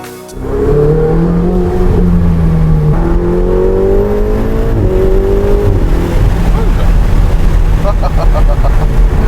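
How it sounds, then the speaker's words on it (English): Ferrari 488 GTB accelerating: a loud, close engine roar that climbs in pitch through repeated surges as it pulls hard, sustained for the whole stretch. "acceleration on this car is just exciting"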